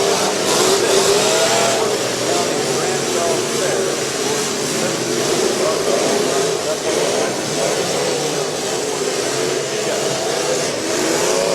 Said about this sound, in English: they are off and running here at the Smash It, Trash It, Tear 'em Up Automobile Demolition Derby Large Car Event